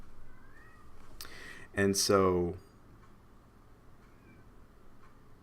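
A pet cat lets out a single loud, drawn-out meow close to the microphone, breaking into a quiet room where a person talks softly before and after.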